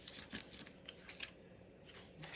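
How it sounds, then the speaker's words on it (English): A deck of tarot cards shuffled by hand gives soft, irregular taps and riffles, quiet and close, with a sharper click at the end and no voices. "We're done shuffling, guys."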